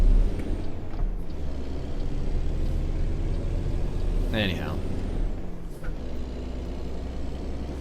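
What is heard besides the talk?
truck engine brake while slowing, American Truck Simulator video game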